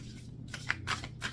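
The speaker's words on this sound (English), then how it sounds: "They want a real good shuffle here." Tarot cards being shuffled during a pick-a-card reading, heard as a few soft, brief riffling bursts over a low steady hum, faint and close with no talking.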